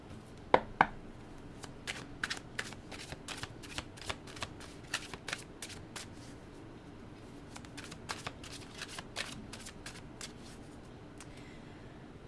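Tarot cards being shuffled by hand, a steady run of soft crisp riffling snaps and flicks, close and quiet, with no voices.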